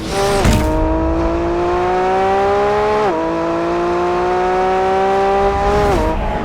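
The Lamborghini Revuelto, a plug-in hybrid V12, accelerates hard and loud with a rising scream through several gears, the pitch dipping briefly at each upshift.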